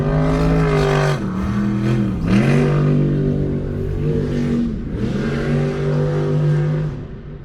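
A jet boat running on Spit Lake at Somerset Dam: a loud, close engine whine with strong tonal harmonics that rises and dips several times as the throttle changes, then eases off at the end.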